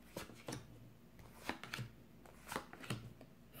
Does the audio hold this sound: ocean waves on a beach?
no